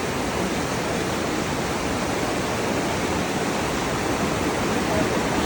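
A forest river rushes loudly and steadily, a dense, unbroken roar of turbulent water heard close up with no pauses.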